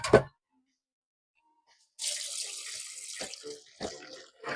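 Rice being washed: a short clatter, a pause of near silence, then a steady rush of running water into a bowl with a few splashy swirls and clunks.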